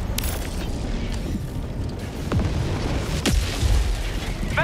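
A support weapon drop lands in the video game Helldivers 2 amid heavy booming impacts and rumbling explosions, with a few sharp cracks and mechanical clatter in a dense, loud battle mix, and no voices.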